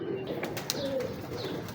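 Pigeons from a breeder's loft coo softly at a distance, low murmuring calls repeating over a steady background hiss with no talking.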